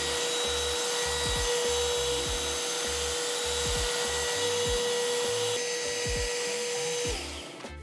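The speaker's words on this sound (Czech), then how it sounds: "pak na to vlítnem vrtačkou a uvidíme, co to udělá" A power drill with a brush whirs steadily and loudly for several seconds, scrubbing fabric upholstery with a rhythmic grinding underneath, then winds down at the end.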